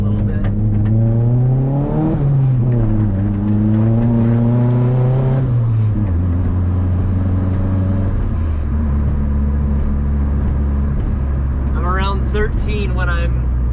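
Turbocharged 1996 Honda Civic with a D16Y7 engine running 8 psi, 240cc injectors and a stock tune, revving up in first gear with a rising drone that drops back, heard from inside the car with someone talking over it.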